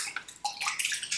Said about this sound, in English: I simply just go back and rinse to get a lot of the big stuff off of the brush